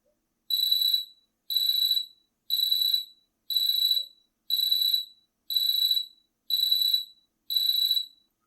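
A Pomodoro timer alarm from a JavaScript web app sounds eight identical electronic beeps, evenly spaced about one second apart, loud and clean against silence.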